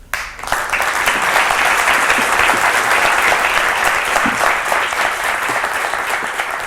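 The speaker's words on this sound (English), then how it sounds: "Though the applause was genuine" An audience bursts into applause after a speech at an activism event, starting abruptly and holding as a loud, dense, even clapping that tapers slightly toward the end, with no voices heard.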